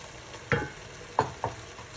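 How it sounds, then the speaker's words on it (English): Mushrooms sautéing in tomato sauce in a pan, a low bubbling hiss broken by three distinct scraping knocks of a spoon stirring, close and without any talking. "And now we're gonna add the mushrooms and let them saute for 3 to 5 minutes"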